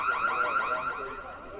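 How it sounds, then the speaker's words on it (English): An alarm blares at a varsity high school baseball game, a loud warbling electronic tone pulsing in rapid repeated sweeps and fading slightly. "I thought there was an actual alarm going off there."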